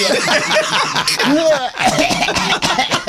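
A few short, wheezy coughs and throaty sputters from a small child, close by, with light snickering sounds mixed in.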